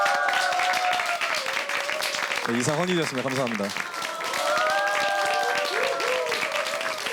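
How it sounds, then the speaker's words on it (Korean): A studio audience claps for teachers nationwide, the steady applause mixed with a brief musical jingle. A voice speaks over the clapping. "전국에 계신 모든 선생님들께 박수 한번 부탁드리겠습니다"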